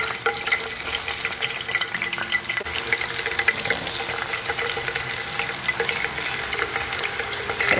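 Thin banana slices for homemade crispy chips fry in hot oil, giving a steady, dense sizzle with scraping stirs throughout, close and loud, with no talking.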